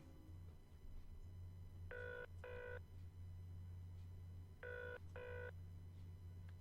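A telephone in a video game rings in two short double bursts, a quiet electronic trill over a low steady hum, with no one speaking.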